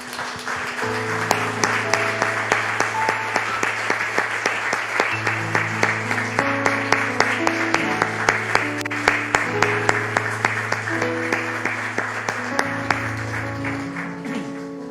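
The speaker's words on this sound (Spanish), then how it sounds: "Le damos un aplauso al Señor" A church congregation claps in sustained applause mixed with steady organ-like musical tones, continuing evenly throughout.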